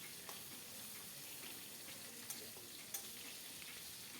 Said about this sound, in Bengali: এবার আবার আমি খুন্তি দিয়ে উল্টে পাল্টে ভেজে নেব